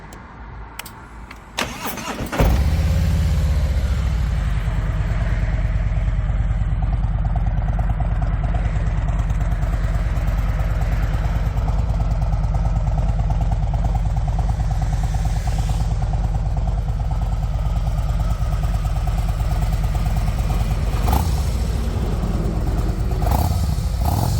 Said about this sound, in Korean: 요쯤에서 머플러 소리 제가 한번 들려드릴게요.